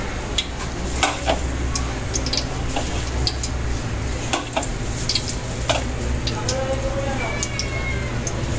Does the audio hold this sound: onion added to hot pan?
yes